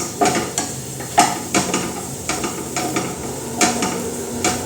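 Onions fry in a pan for egg bhurji while a spatula stirs them, giving repeated sharp scrapes and taps over a steady sizzle, close up with no talking.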